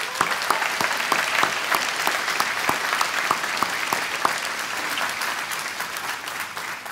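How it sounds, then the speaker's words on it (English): Sustained applause from a crowd for award recipients at a conference keynote, steady clapping throughout with a few individual claps standing out, gradually easing toward the end. "Let's give all of our global award recipients a round of applause."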